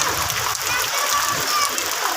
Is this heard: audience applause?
no